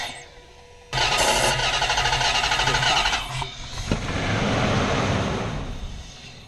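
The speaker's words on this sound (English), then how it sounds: "Alright, go ahead, try to start it." A Range Rover with a suspected failing fuel pump cranks hard, its starter and engine churning loudly and continuously for several seconds, roughness shifting midway before a steadier running roar.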